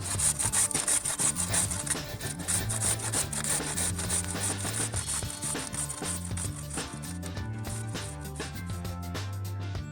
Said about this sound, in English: Now we're going to grate our carrots. So find a normal cheese grater and go on the slightly bigger side with a hole.